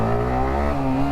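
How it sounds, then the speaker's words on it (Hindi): A 155cc motorcycle engine revs as the throttle opens at low speed, a close, loud, buzzing tone whose pitch climbs steadily over about a second, with no voices. "देख रहे हो एकदम से पावर आई। थ्रॉटल देखना अभी, देख रहे हो।"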